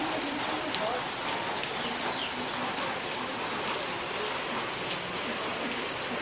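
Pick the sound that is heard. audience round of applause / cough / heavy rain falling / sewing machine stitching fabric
heavy rain falling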